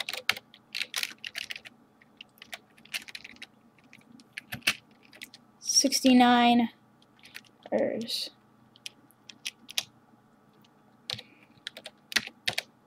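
Someone types on a computer keyboard during a GTA 5 game, with bursts of clicky keystrokes scattered across the clip, interrupted by a brief spoken phrase and another voice partway through.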